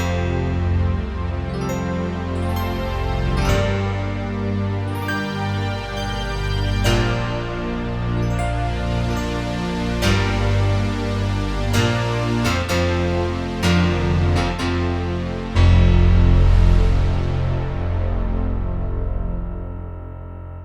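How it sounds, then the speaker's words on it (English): Yamaha MODX synthesizer plays a big layered patch with dense sustained chords, deep bass and bright struck accents, full and loud throughout, with no voices. "so that means you can create those really big layered sounds like this one."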